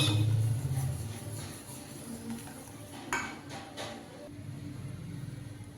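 A laddu mixture stirred in a bowl, with faint scraping and clinking of a utensil against the bowl's sides, a couple of sharper knocks midway, under a low background hum.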